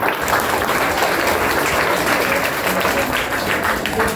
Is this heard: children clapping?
yes